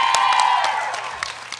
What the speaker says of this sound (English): I may have bribed the audience to cheer for me.